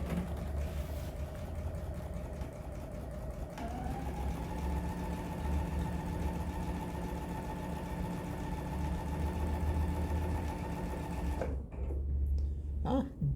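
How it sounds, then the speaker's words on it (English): A sewing machine stitches half-square triangle quilt pieces together with a 1/4 inch seam, running as a steady close motor whir that shifts speed slightly partway through and then stops near the end. "I'm going to sew these together"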